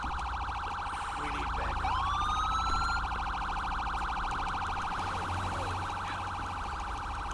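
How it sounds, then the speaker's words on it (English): A wailing emergency vehicle siren in the LSPDFR police game rises sharply and holds a steady tone over a constant electronic background hum, fairly loud and with no talk. "I don't believe that's my siren."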